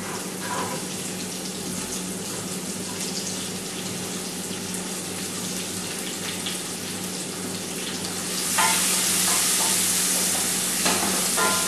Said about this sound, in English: Then now I'm going to add the chopped onions into it.